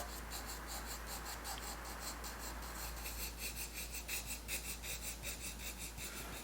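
A pencil lightly shades paper during a horse drawing, a steady soft rasping scratch of fine back-and-forth strokes, close but faint and continuous, with no voices.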